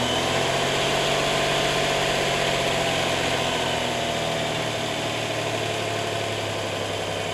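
Buick 3.8-liter V6 in a 1987 Oldsmobile, a sequential port fuel-injected pushrod engine with waste-spark ignition, already running at a steady, close idle with an even hum and no audible cranking.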